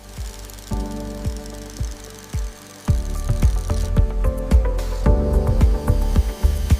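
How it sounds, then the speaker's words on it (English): Precision milling machine cutting teeth into a giant gear in a gear recycling factory: loud, continuous heavy machining with repeated sharp knocking impacts and a rumbling low drone, close and dense throughout. "Shaping the teeth. Perfect fit. Precision milling."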